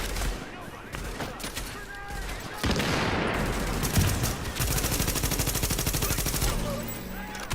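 Heavy automatic gunfire from a third-person shooter game, Tom Clancy's The Division, with dense rapid bursts and sustained rattling volleys building into a steady loud fusillade through most of the stretch.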